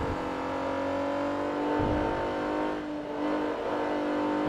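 A race car engine in the video game Forza Motorsport 3 hums at a steady pitch with a slight rev swell midway, sustained and fairly close, with no talking.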